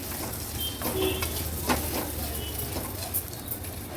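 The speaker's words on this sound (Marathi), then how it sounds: "हा लापशीचा रवा आपल्याला भाजून घ्यायचा आहे" Broken wheat semolina roasts in ghee over a low flame, giving a soft, steady sizzle with a few faint stirring scrapes and light clicks. Faint background noises sit underneath.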